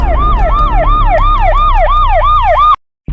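A loud, close electronic alarm siren wails in rapid rising-and-falling sweeps, repeating about eight times before cutting off abruptly into silence.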